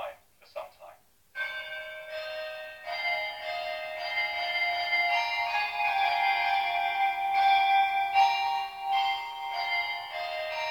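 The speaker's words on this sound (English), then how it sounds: "Let you listen to the entirety of this last midday chime for some time." A midday chime of bells rings out in sustained, overlapping tones that hold steady and loud for most of the stretch, after a few short sounds at the start.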